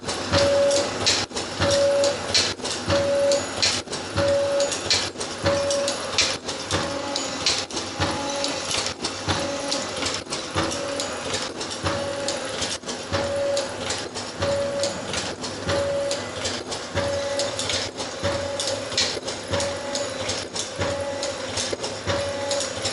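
A computer-controlled ultrasonic nylon zipper cutting machine runs steadily, with a loud, continuous mechanical rattle, regular clicking cycles and a repeating high beep close by throughout.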